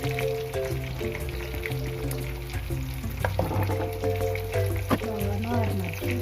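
Fish and meat, including fried meat, land in a hot pot for garden egg and banga soup, giving a steady frying sizzle with stirring clatter and some tonal background sound.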